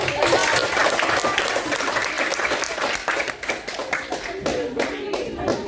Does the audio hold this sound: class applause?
yes